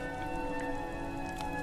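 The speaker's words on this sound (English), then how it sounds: "I mean, it's been raining" Steady rain falls in the video game Skyrim, a constant soft patter that continues evenly throughout with no voices.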